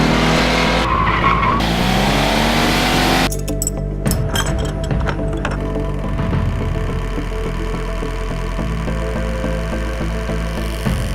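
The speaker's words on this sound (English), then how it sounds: "That rear engine, that mechanical sound, makes a very, very interesting noise." A loud rear-engine Porsche sports car engine revs hard with rising whine and tire screech, then settles into a steady, rough mechanical drone close by.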